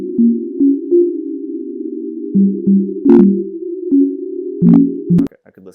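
Computer-generated, physics-based pure tones play a simple blues phrase, a sustained hum with stepping notes and short clicks, clean and synthetic, loud and alone.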